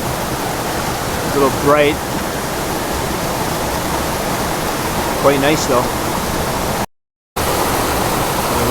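A jungle waterfall near Gambita, Colombia roars as a loud, steady wash of rushing water, close and unbroken, with someone speaking briefly over it and a short dropout near the end.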